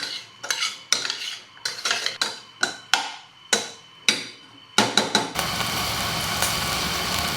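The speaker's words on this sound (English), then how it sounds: "And we not just boil, we mix." A berry mixture is stirred in a pot on a stove over high heat, giving a series of regular metallic clinks and scrapes of a spoon against the pot, followed by a steady bubbling hiss.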